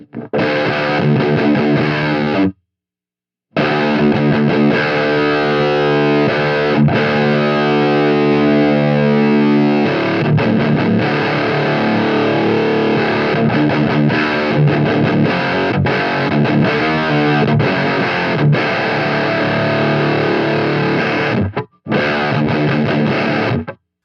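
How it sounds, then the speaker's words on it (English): Electric guitar through a Fortin fuzz pedal, thick and saturated, playing hardcore-style sustained chords and riffs with pick scrapes, with two brief silent gaps. "the little scrape of the pick come through, and then you can hear how the fuzz is kind of cutting through"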